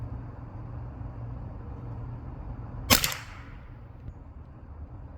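A single sharp .22 LR rifle shot fired with 60-grain rounds at an outdoor target range, a loud crack rising out of steady low background rumble and followed by a short fading tail, with no talk.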